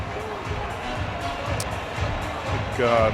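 A crowd murmurs and stirs steadily in the gym during a high school girls basketball game, North Quincy vs Quincy, while a commentator talks over the low hubbub.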